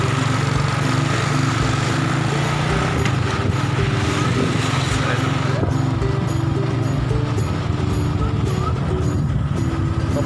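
Motorcycle ride to Talat Sao morning market in Vientiane, Laos: a steady, loud engine drone with harmonic whine runs throughout, joined by wind and traffic noise, with voices partly audible underneath.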